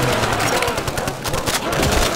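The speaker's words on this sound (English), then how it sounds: "It's a German AK-47." Rapid German rifle fire in the World War II shooter Call of Duty: World at War, dense and continuous across the whole stretch with steady sharp cracks layered over game background noise.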